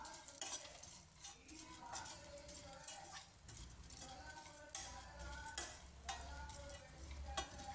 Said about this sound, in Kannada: ಈ ಥರ ತಿರುಗಿಸ್ಕೊತ ಘಮ ಬರೋ ತನಕ ಎಲ್ಲ ರೋಸ್ಟ್ ಮಾಡ್ಕೊಬೇಕು.